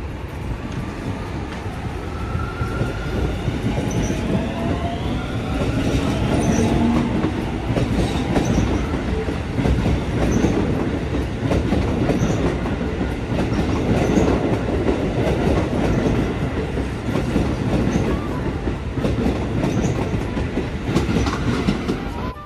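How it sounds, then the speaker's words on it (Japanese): An out-of-service Keio line train pulls away from Kitano Station in Japan, passing a stopped local train. A steady rolling rumble and rhythmic wheel clatter on the rails continue for over twenty seconds, with faint squealing tones. "そして回送列車が一足先に発車。"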